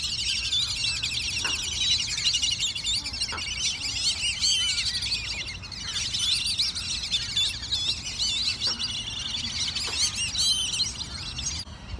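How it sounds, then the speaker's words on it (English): Many birds chirp and call outdoors on a foggy morning, a dense, continuous chorus of high tweets and trills with a few sharper calls standing out, steady and fairly close throughout. "There's a lot of birds out here."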